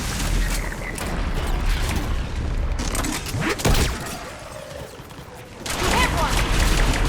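Gunfire in the Mass Effect 3 video game, heavy bursts and booms rolling on continuously at close range, with a voice speaking over the shooting.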